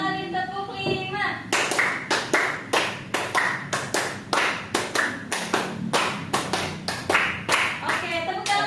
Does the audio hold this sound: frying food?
no